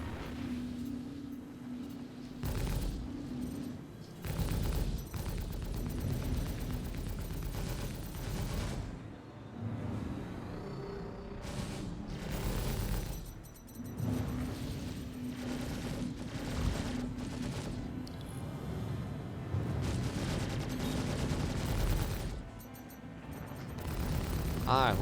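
Ship guns in the video game Star Citizen fire bursts at a Freelancer, rapid and fairly loud against a constant engine hum and game noise, with pauses between volleys.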